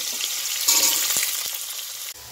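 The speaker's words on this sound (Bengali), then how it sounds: "ওই তেলের মধ্যেই আমি আলুগুলোকে আবার ভালো করে ভেজে নেব" Potato pieces fry in hot oil that was used to fry lentil dumplings, a close steady sizzle with brief stirring scrapes over about two seconds.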